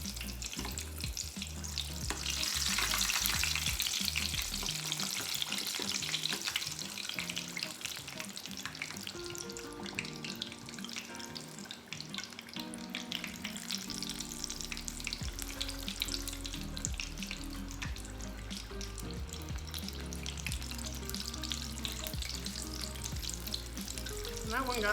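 Egg rolls deep-frying in hot oil, a continuous bubbling roar of frying with dense crackle and occasional clinks, steady and fairly near, no one talking.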